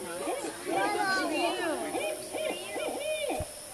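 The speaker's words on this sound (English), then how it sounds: "Barred owl, correct." A barred owl hoots in a rising and falling series of calls, fairly close, at a campfire circle in Hillsborough River State Park, over a steady background hiss with some faint chatter.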